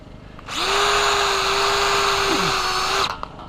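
Power drill driving screws into the pipe joints of a high tunnel frame: a loud, close, steady whine lasting about two and a half seconds before winding down, with outdoor background noise.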